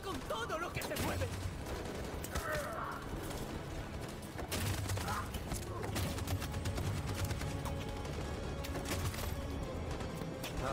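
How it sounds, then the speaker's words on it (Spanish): Machine gun fire in the video game Detroit: Become Human, rapid bursts of shots with loud sharp impacts recurring throughout over a busy battle background, with speech in Spanish heard at times. "Esta ametralladora acaba con todo lo que se mueve."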